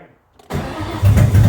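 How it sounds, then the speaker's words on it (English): A Ford Mustang SN95 engine cranks briefly after a moment of quiet, then catches and fires into a loud, rough running note close by. "Stop turning it over when it fires up."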